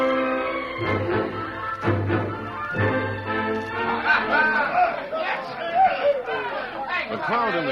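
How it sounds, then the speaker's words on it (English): Boisterous crowd chatter fills a saloon-style cafe in an old Western radio drama, many overlapping voices and some laughter, steady and fairly close throughout. "The crowd in the cafe at Dry Gulch was as usual noisy and boisterous"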